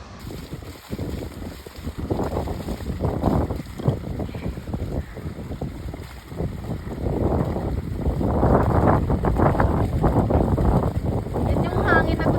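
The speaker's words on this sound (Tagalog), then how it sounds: "Yan yung hangin na gusto ko." Wind gusting across the Akiki Trail on Mt. Pulag buffets the microphone in a steady, rough roar that swells louder toward the end, with people talking over it.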